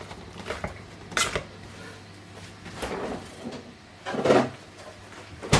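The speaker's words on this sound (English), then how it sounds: "I'm just going to mash my potatoes" Potatoes being mashed in a bowl: dull, thudding pushes and squelches arrive in uneven bursts with quiet pauses between them, close and moderately loud, no one speaking.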